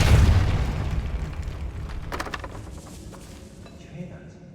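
Depulso spell blast in the Hogwarts Legacy video game, a heavy booming impact up front that rolls off into fading rumble and debris clatter, with a character's voice in the mix.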